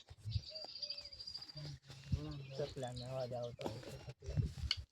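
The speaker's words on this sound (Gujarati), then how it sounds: "ચકલાનો પોપટનો અવાજ આવે છે।" Sparrows and parrots call around a farm plot, with high chirps and squawky, warbling notes rising and falling in quick succession at moderate distance throughout.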